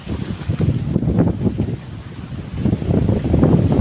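Strong wind buffets the microphone near a wooden bridge among large trees, a loud low rumble that surges and eases in gusts throughout, with no voices.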